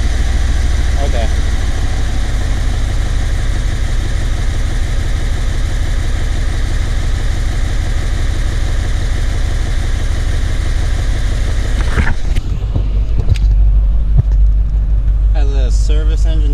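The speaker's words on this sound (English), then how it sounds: "It's running, it kind of sounds, feels like it's misfiring" A 1993 Corvette with an LT1 engine idles steadily and loudly up close, its running slightly uneven as if misfiring, with clanks and handling noises toward the end.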